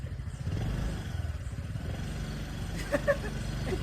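Motorcycle engine idling close by, a low steady chugging rumble with a couple of brief clatters near the end, no clear talk.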